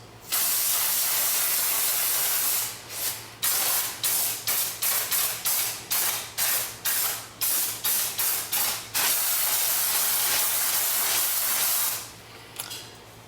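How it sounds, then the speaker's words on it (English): Brake cleaner sprayed over the rotor, slider and hub of a 2009–2013 Dodge Challenger R/T, first a long steady hiss, then a run of about a dozen short rhythmic bursts, then more continuous spraying, close and loud, with no talking. "Just give it a nice little spray down, and make sure you don't inhale any of the dust that comes out whenever you spray this."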